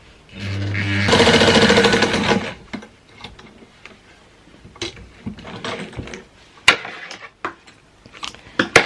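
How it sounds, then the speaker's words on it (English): A vintage Singer 99K sewing machine stitches through four layers of denim in a short, loud, rapid mechanical run of about one and a half seconds, followed by quieter clicks, knocks and fabric handling. "Then I'll be sewing through 4 layers of denim, and let's see how this machine gets along with this."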